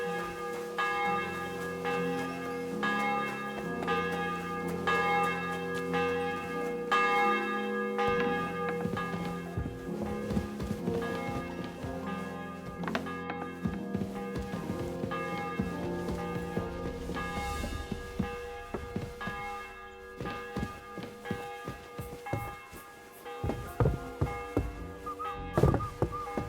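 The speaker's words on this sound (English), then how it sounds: "The 11th toll of the bell." A church bell tolls repeatedly in Kingdom Come Deliverance II, loud rich ringing with sustained overtones layered over game music, strikes recurring through a medieval castle scene before an execution.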